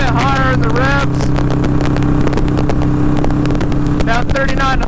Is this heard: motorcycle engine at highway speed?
yes